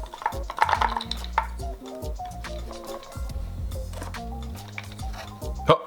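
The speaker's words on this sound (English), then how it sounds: "So when I rattle, you can hear the lid moving" A wooden heart-shaped secret-opening puzzle box with a sneaky lock is shaken, its loose lid clattering in short bursts of close knocks over a steady tonal hum, ending in one sharper rattle.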